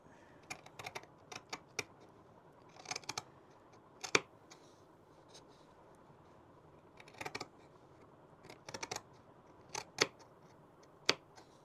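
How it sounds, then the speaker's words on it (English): Sharp scissors cut through fabric for a no-sew top in irregular clusters of crisp, close snips separated by short quiet pauses, with no talking. "And we just keep cutting. And this is where we need really sharp scissors."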